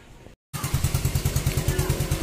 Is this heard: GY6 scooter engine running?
yes